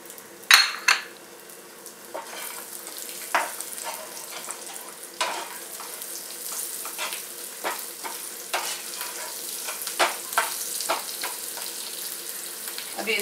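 Garlic and cumin frying in about two spoons of oil in a pan, giving a steady light sizzle with frequent clinks and scrapes of a spoon stirring against the pan, close by and without talk.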